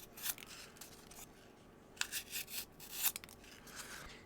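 An EDC knife, the Remette Rhino, cutting into cardboard, producing a few short, close scraping and rasping strokes separated by brief pauses, with no talking.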